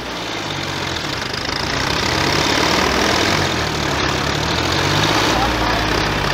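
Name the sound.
tractor engine revving, John Deere 5036 D vs Hindustan tug of war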